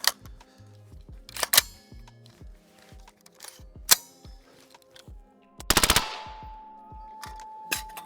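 Suppressed SIG Sauer MCX SURG 5.56 rifle firing three magazines on full auto and two on semi-auto, with rapid sharp bursts and single shots, pauses and metallic clatter between strings, and a ringing hot-suppressor hum after a final volley.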